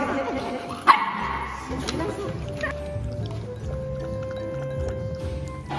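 Small dogs at a dog-friendly cafe give a sharp bark followed by yips and whimpers, close by, while someone talks over them amid indoor cafe background noise.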